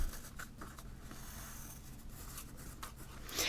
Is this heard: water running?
no